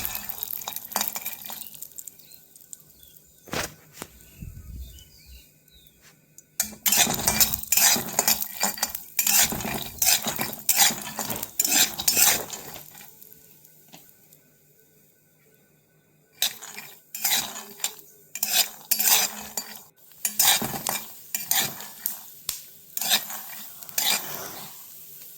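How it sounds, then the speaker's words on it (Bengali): Peanuts frying in oil in a pan for aloo poha, with bursts of spatula stirring and scraping that come and go, separated by quieter spells of low sizzle. "তারপরে ওই তেলে কিছু বাদাম ভেজে নেব পোহায় দেওয়ার জন্য।"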